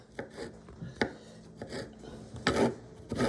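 Garlic is chopped with a knife on a board: several close, sharp knocks in an uneven rhythm, with soft rubbing and scraping between strikes and a heavier double chop near the end.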